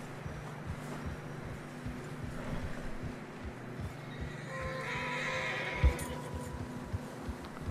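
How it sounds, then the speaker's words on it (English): Horses whinny and neigh while trudging through deep fresh snow during a blizzard in the Red Dead Redemption 2 video game, with hoof clops and a steady wind-like background hum throughout. "Horses are struggling."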